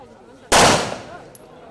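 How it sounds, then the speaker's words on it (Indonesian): A single sharp, loud gunshot at an indoor sport shooting range, a sudden crack followed by a short decaying echo, with a faint metallic click just after. "Tembakkan ke arah sasaran."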